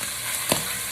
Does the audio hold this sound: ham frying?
yes